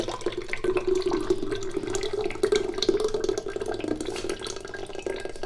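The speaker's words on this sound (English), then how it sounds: "All I'm gonna do is add some water to it." Tap water runs steadily into a container in a kitchen, a close, continuous splashing stream with no talking.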